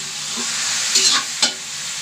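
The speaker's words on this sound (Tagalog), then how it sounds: "Gigisa lang natin ito guys." Chicken for coconut-milk adobo sautés in a hot pan, a steady bright sizzle with a couple of short clinks and scrapes from stirring, close and loud with no talking.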